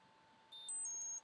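A short series of high electronic beeps from a Cefaly device powering down, a few tones stepping in pitch, quiet and close, over a faint steady hum.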